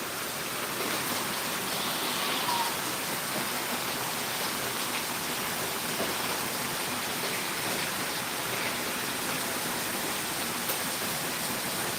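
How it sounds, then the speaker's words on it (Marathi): Steady, dense rain falls during sunshine in Karad, a constant close hiss with no pauses, and no voices. "ऊन पाऊस हे कंटिन्यू चालू आहे आमच्या इकडे"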